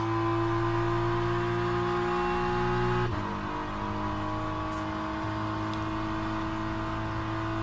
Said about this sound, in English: We're on board with Aiden Russell in the BMW. What a beautiful sounding car.